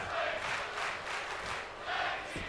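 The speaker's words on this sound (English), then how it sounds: "The crowd is showing their appreciation for this matchup" A video game arena crowd at a WWE 2K26 wrestling match cheers in a steady, swelling roar, with no clear voices over it.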